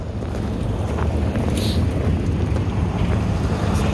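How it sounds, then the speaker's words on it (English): Quad bikes drive past on a wooded trail, a steady, loud low engine rumble with wind buffeting the microphone throughout. "Vehicle coming by right now."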